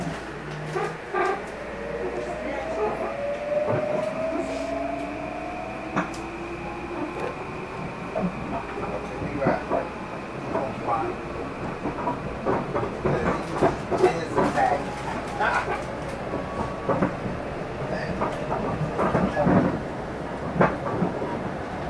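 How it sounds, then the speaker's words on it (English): A New Haven Line commuter train runs between Stratford and Milford, heard from inside as a steady low rumble with rattles and clicks and rising tonal whines, while people talk and a dog barks intermittently. "This is the train to New Haven."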